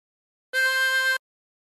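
Single blow note on hole 4 of a harmonica, a steady reedy tone held for about two thirds of a second, close and clear with no voices, silence before and after.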